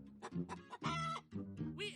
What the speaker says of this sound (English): We added the rooster sound.